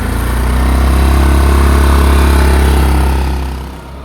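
A motorcycle engine runs loud and close after a kick start. It holds a steady idling rumble for several seconds, then fades slightly at the end.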